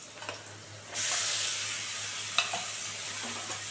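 Fresh onion paste hitting a hot pan after fried potatoes, a sudden burst of loud hissing sizzle that settles into steady frying, with one or two clanks of a utensil.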